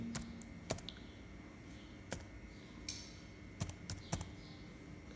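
Quiet, sparse keystrokes on a computer keyboard, irregular clicks and taps spaced a second or so apart over a faint room hiss.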